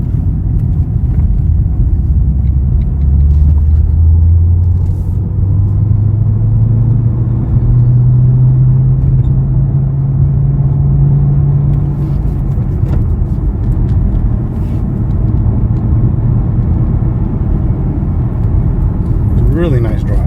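Supercharged 2011 Cadillac CTS-V coupe driving on a road, a deep steady engine rumble and road drone with a rising and falling engine note, under someone talking.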